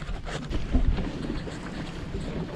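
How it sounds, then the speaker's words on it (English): Big outboard engine trolling a boat on Upper Lough Erne, a low steady drone mixed with buffeting wind noise throughout, no talk. "we're trolling on the big engine now"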